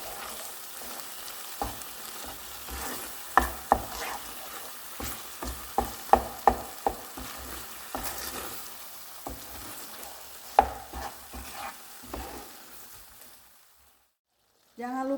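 Squid curry in a pan being stirred after salt and sugar go in, a soft frying hiss under a string of spoon scrapes and clinks that fade near the end, with a brief voice at the close.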